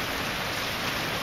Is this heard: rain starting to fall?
yes